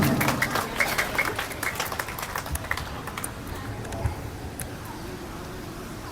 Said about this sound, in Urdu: بھرپور تالیوں میں استقبال کیجیے فیصل باسط بھائی.